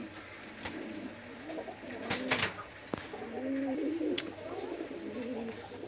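A pair of Pakistani high flyer teddy pigeons coo softly nearby, low rolling calls rising and falling across the stretch, with a few faint clicks in the background.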